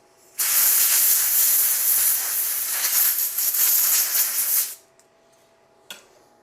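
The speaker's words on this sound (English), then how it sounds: "I'm gonna take it over here to my shop air compressor, and I'm just gonna hit it really good with the shop air." Shop air compressor nozzle blasting soot off laser-engraved leather, one loud, close hiss lasting about four seconds, then a brief second puff after a short pause.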